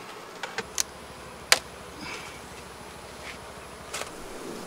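Honey bees from an opened hive that may have been poisoned give off a faint, steady buzzing, broken by a few sharp clicks and taps.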